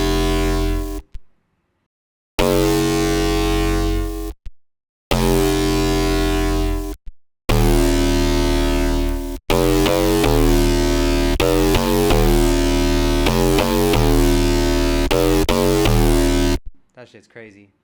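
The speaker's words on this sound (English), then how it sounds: "let's see what happens if we distort that" A sound run through a heavy distortion effect, loud buzzing harmonic tones in repeated bursts separated by abrupt silences, then a longer sustained distorted stretch that cuts off at the end.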